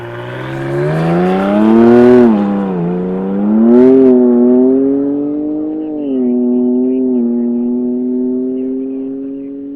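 A record-speed car accelerates hard on Pendine sands at half throttle and low boost, its loud engine whine climbing and dipping in pitch through several surges over about ten seconds, close and dominant.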